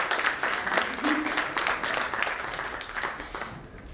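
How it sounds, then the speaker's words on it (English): An audience applauds after a speech at a panel discussion event, steady clapping filling the whole stretch at moderate loudness, with faint voices murmuring underneath. "Can I have a big round of applause for this speech?"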